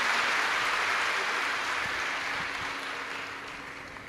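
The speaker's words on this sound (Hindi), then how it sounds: "एक बार यजमान परिवार के लिए जोरदार ताली बजाकर स्वागत वंदन अभिनंदन।" A large crowd claps loudly and steadily at a live Shiv Mahapuran religious discourse, welcoming the host family; dense continuous applause fading slightly toward the end, with no voices over it.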